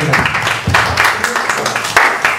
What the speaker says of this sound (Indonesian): Beri tepuk tangan untuk materi kita.